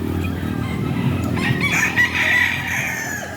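Broodcock roosters crow loudly and close by over a busy bed of clucking and farmyard murmur, with one crow rising clearly near the middle of a short burst.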